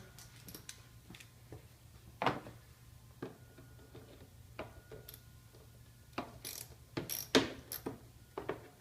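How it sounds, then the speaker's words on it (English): A hand ratchet clicks while loosening bolts on a BMW E70 X5 during engine partition replacement, faint irregular clicks and metallic taps over a low hum, growing denser toward the end. "I'm going to use a combination of a ratchet and a regular driver"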